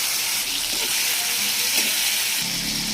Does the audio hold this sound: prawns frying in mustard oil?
yes